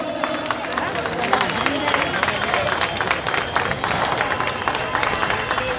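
A crowd applauds steadily to welcome AAP leader Sanjay Singh at a gas pipeline inauguration in Mangolpuri, Delhi, dense clapping with babble and voices mixed in throughout.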